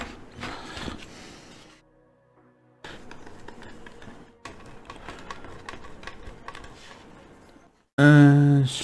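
A screwdriver drives screws into parts of a Bugatti Veyron 16.4 Super Sport scale model car, a string of small close clicking, ratcheting bursts, with a louder burst near the end.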